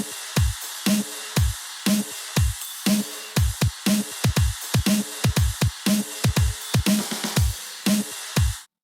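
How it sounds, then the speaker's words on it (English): Drum part from an electronic music drop, played alone: steady punchy kicks and crisp snare hits in a repeating groove, close and clean, with no other instruments or voices. "So this is what the drums sound like."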